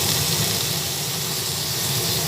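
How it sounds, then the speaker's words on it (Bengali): Elephant foot yam being fried with chili powder and spices in a pan, a steady, close hissing sizzle that runs unbroken and loud throughout with no voices. "ওলার আলুও একসঙ্গে ভেজে নিচ্ছি নাড়াচাড়া করতে করতে"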